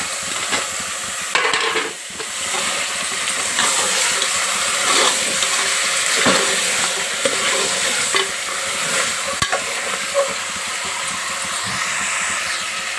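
Washed mutton pieces fry in hot oil for a mutton curry, a loud continuous sizzle with frequent spatula scrapes and knocks against the pan as the meat is turned.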